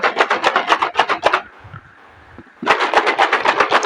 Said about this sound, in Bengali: এই যে জারটা এবার ঝাঁকুনি দিচ্ছি